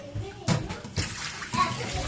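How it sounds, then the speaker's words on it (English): Liquid poured out of a cooking pot into another pot in a Jamaican home kitchen, arriving as several splashy gushes and sloshes while a person talks over it. "So let's pour this out now."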